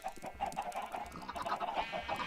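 Minecraft chickens clucking in a repeated, steady rhythm over a low background hum, with no talking.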